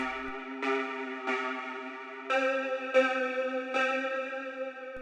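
Square-wave synthesizer oscillator with nine detuned voices, pushed back in the mix, playing a sequence of sustained bright chordal notes with six distinct attacks, alone with no talking.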